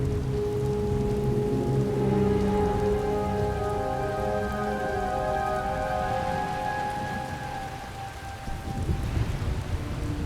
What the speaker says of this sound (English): Rain's wiped out the trail